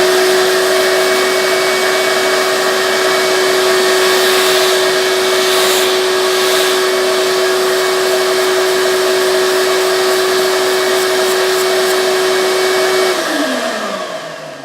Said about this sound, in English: I use my shop vac to keep from blowing all this stuff all over the garage